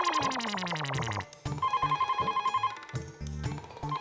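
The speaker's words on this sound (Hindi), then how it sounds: "अंदर चलो, फोन की घंटी बज रही है।" A telephone bell trills loudly in repeated bursts, its fast ringing pulses continuing with short breaks amid some louder background sounds.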